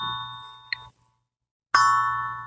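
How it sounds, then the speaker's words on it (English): A bell rung twice, each strike a bright metallic ding with a long humming ring that decays slowly, the first cut off abruptly before the second rings out loud and close. "I'm ringing the bell."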